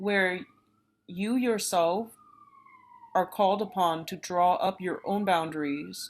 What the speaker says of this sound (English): excuse the siren